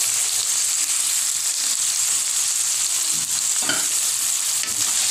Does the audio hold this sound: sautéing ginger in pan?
yes